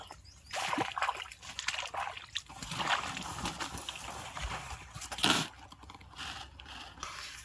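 Irrigation water gushing and sloshing into a field channel, a broad, fairly loud, uneven rush with bursts of splashing throughout, heard up close outdoors.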